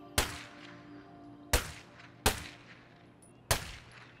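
Four separate, loud gunshots in State of Decay 2, spaced unevenly about a second apart, each with a sharp crack and a fading echo, with no talking.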